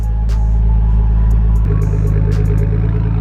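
A Daihatsu Mira Turbo L200 with an aftermarket exhaust burbling loudly up close, a low steady rumble stepping up in revs partway through, with occasional clattering pops.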